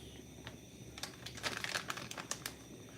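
A plastic package with a double zipper crinkles and crackles in short, quiet bursts close by, with a few sharper rustles in the middle.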